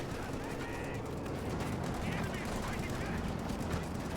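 Steady machine gun fire from a Company of Heroes 2 battle between Wehrmacht and US forces, a dense continuous crackle of shots under ongoing commentary talk, with no pauses across the stretch.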